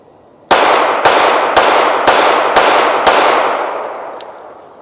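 Six evenly spaced gunshots from a Rock Island Armory RIA 5.0E pistol crack out about half a second apart, loud and sharp with a ringing decay, followed by a faint clink.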